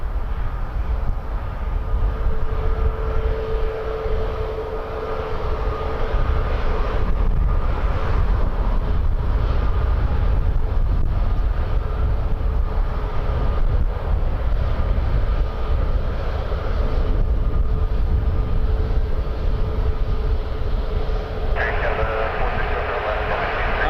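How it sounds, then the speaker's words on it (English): A Porter Embraer E195-E2 departs Toronto Pearson at night, a continuous broad jet roar that holds steady and fairly loud throughout, with faint tonal whine and no pauses. "Porter 319er off to Vancouver on an Embraer E195 E2."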